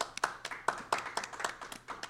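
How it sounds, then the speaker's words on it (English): Audience clapping for a guest being welcomed onto a local community show, a sparse round of distinct hand claps at an uneven rhythm, fairly close and moderately loud. "Let's have a big round of applause for Mike Witty,"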